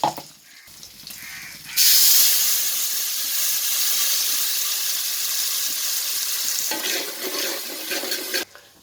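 Ground tomato goes into a hot frying pan for a red mullet fish curry and bursts into a loud steamy sizzle that settles into a steady hiss, with faint stirring before it fades out.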